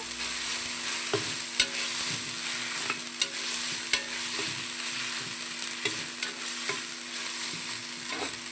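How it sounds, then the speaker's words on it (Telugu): Finely chopped coriander and mint leaves frying in a pan for potato rice, a steady close sizzle with scattered light stirring clicks and scrapes, no voices. "సన్నగా కట్ చేసుకున్న కొత్తిమీర పుదీనా పచ్చా కానీ ఫ్రై చేసేసుకోవాలి"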